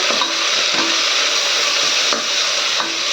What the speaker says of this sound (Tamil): வெங்காயம் பச்சை மிளகாய் இதில் சேர்த்துக்கோங்க